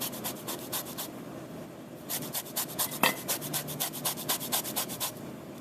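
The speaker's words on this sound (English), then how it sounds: "I'm going to grate this over a bowl to catch all my lemon zest" Lemon peel scraped against a fine grater over a bowl for zest, a run of quick close rasping strokes that pauses briefly and then resumes in a steady rhythm.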